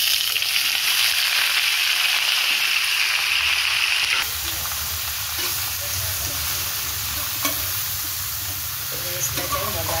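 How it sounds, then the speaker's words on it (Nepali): Bay leaf frying in a little oil while being stirred, with a loud continuous sizzle that drops to a lower, rougher frying crackle partway through, plus occasional scrapes of stirring. "यसलाई चाहिँ मजाले म चलाउँछु"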